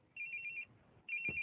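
A mobile phone ringtone for an incoming call plays in two short bursts of repeated electronic trilling, separated by a brief pause, moderately close and with no talking.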